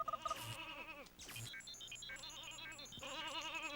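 Sheep bleating in the N64 game Space Station Silicon Valley: several wavering, nasal bleats stand out over busy, bright game music, loud and close, with no talking.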